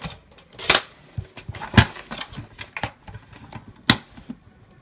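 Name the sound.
cutting out paper notes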